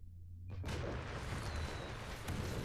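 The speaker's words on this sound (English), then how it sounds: "Where did they get fireworks from?" Fireworks exploding in Watch Dogs Legion: after a brief quiet, a sudden boom opens into a sustained, crackling roar of bursts that fills the scene for a couple of seconds.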